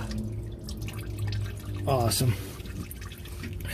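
Hot AMSOIL engine oil pours from the drain hole of a Honda Accord, a short splashing gush and trickle heard close up, with a person speaking briefly.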